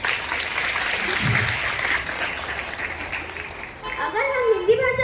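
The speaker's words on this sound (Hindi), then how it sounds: "तालियां बजाओ।" A crowd of children at a Hindi-language school event claps for several seconds, a steady dense patter of applause, with a voice rising over it near the end.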